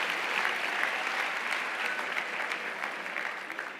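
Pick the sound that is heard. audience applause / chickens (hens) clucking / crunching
audience applause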